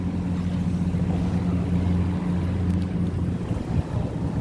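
A pontoon boat on a Thai river turns and drifts with the current, a steady low engine hum and rumbling water under gusty wind noise, continuous and fairly close, with no voices.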